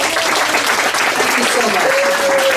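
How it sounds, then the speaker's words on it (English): Steady, dense audience applause at an author's book event, a continuous wash of many hands clapping that holds at an even level throughout. "Let's go ahead and give her a big round of applause."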